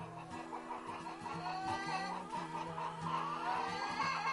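Several chickens cluck and murmur close by, with overlapping calls rising and falling continuously.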